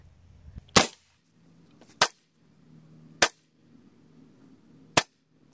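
Four sharp, loud shots from an FX Monsoon semi-auto regulated PCP air rifle firing pellets, spaced roughly one to two seconds apart with quiet pauses between, each a crisp crack with a short tail.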